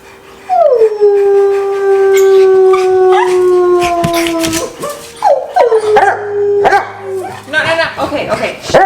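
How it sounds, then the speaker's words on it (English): Old English Sheepdogs howl in long, drawn-out sliding tones that overlap, one sustained howl followed by shorter rising and falling calls, with a person speaking over them near the end. "we're howling. We're not barking."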